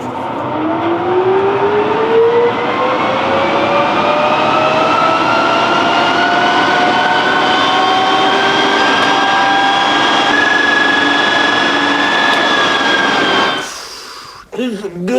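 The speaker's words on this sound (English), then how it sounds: "we just dumped a whole lot of jet fuel in the turbine and it just blew out as smoke" A jetcar's jet turbine spins up with a loud, steady whine that climbs in pitch for about thirteen seconds, then cuts off abruptly into a few brief bangs and rattles as the start fails and fuel is dumped.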